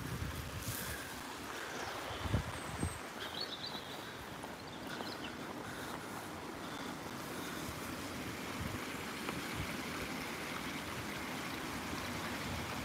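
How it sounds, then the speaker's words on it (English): River water flowing steadily at close range on a hill walk near the ancient Abernethy tower, a continuous broadband wash with some wind buffeting on the microphone. "The river."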